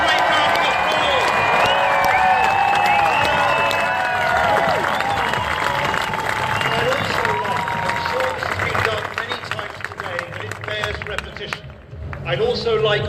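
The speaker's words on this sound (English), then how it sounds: "So give yourselves a great round of applause" Crowd at a pro-Europe rally near Big Ben in London breaking into applause and cheering, a dense wash of clapping with whistles and voices that thins toward the end.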